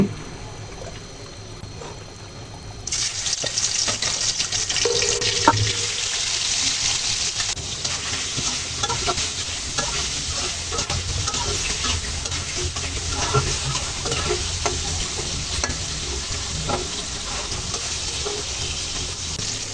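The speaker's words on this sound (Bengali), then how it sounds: "আমার এই পাখি মাছ ভাজা প্রায় হয়ে যাচ্ছে" Fish sizzles and crackles in hot oil, a loud continuous frying hiss that starts abruptly and holds steady, with faint pan scrapes.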